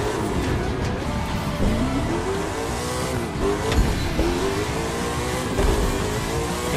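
Racing engine from a car in a drag race in The Crew 2, revving and climbing through gears with rising whines and brief shift dips, loud and continuous without speech.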